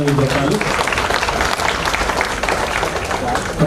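An audience claps throughout an indoor campaign event on trauma and road safety, a dense, even wash of applause mixed with crowd noise and some talk.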